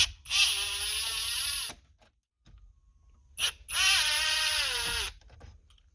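Two bursts of a whining power driver remove T25 Torx screws from the dashboard of a 2016 Ford Focus SE, loud and close, rising then falling in pitch with a brief quiet gap between.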